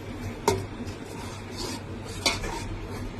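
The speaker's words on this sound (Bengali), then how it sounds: "আন্ডাগুলা ঢেলে একটু করে লেড়ে দিছি" Beaten eggs stirred in a pan with masala, two sharp scrapes of a utensil against the pan over a faint background hiss, otherwise quiet.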